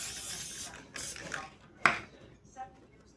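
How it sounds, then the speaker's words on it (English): Gorilla heavy duty spray adhesive is sprayed in short hissing bursts onto the bottom of a shoe made from plastic bags, close and fairly quiet, with a couple of small clicks and rattles between bursts. "I have this Gorilla spray, and it's a heavy duty spray."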